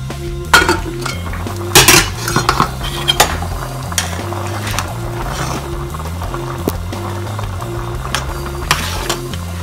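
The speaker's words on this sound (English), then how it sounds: "then I'll add the vegetables." Vegetables go into a cooking pot of pepper soup, with continuous sizzling and bubbling under repeated metallic clinks and scrapes of a utensil against the pot.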